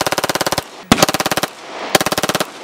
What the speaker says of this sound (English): 100 round drum mag, full auto Glock.